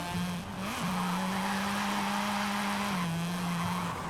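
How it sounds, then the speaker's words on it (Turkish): A Mazda RX-7 in Forza Horizon 5 drones along at low revs with a steady, muffled engine tone that dips and bogs slightly, accompanied by faint tire noise and no talking. "Alt devirde birazcık boğuluyor araba."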